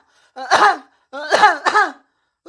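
A person coughs and clears their throat in close, loud bursts, one harsh cough followed by a quick double cough, with no talking.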